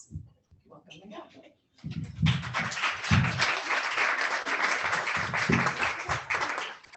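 Audience applause follows a speaker's introduction at a law continuing-education session on Bitcoin mining, with a brief murmur of voices before a sustained burst of clapping that holds steady from a roomful of listeners.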